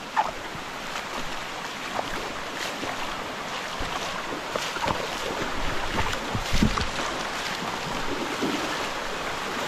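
Water flows steadily through a forest, a continuous broadband rush with occasional splashes and gusts of wind noise, and no voices.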